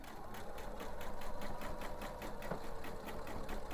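A sewing machine stitches fabric along a seam with a rapid, rhythmic mechanical chatter, steady and moderately quiet throughout with no voices.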